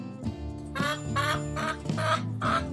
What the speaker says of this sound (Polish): Słyszysz? To kura.